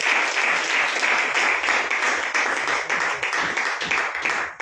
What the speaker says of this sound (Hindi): एक जोरदार ताली देंगे हम राजाओं का राजा।